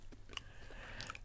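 Crunchy edible crickets being chewed close to the mouth, with a few crisp, quick crunches spaced apart over a quiet background.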